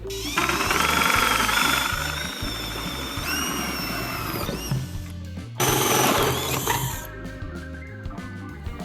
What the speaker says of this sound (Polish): Musimy sobie wywiercić dwa otwory w naszej pokrywce.